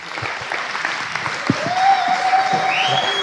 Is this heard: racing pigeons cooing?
no